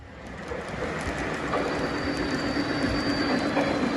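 A steady rumbling O-gauge model freight train sound effect with faint rhythmic clicking of wheels, holding loud and constant throughout.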